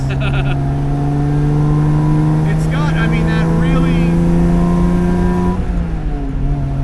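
The inline-six engine of a 1958 AC Aceca coupe revs up in a rising, sustained tone, then drops back as the throttle eases, heard from close by with someone talking over it.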